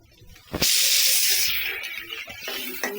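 Chopped onions dropped into hot cooking oil burst into a loud, sudden sizzle that then hisses steadily and slowly fades, with a few small crackles near the end.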